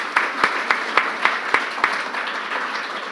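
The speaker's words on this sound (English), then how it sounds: "Another big round of applause for our 4 fabulous panelists." Applause from the audience at a medical wellness panel: a run of sharp, evenly spaced claps over a softer clapping wash, fading toward the end.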